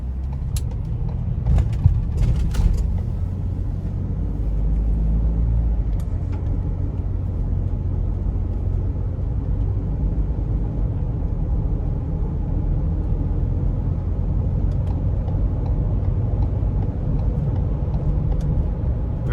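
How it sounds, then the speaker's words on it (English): A 2015 Ford Transit-150 Explorer conversion van drives on the road, with a steady low engine and road rumble throughout and a few faint creaks and clicks inside the cabin. "now we're gonna go ahead and take it out on the road and see what the driving experience is like"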